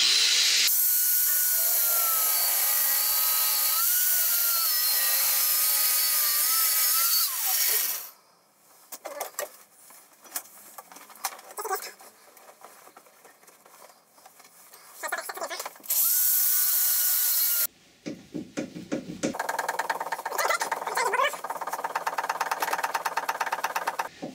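Grinder and finger file work on metal on a Volvo power steering pump setup in an electric vehicle conversion, a loud continuous high grinding whine that stops and gives way to bursts of rasping and clattering, then resumes.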